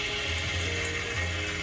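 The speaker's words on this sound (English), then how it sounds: "There's water in the sink." Water runs from a tap into a camper sink as a continuous, close splashing stream with a faint low mechanical hum beneath it, and nobody talks.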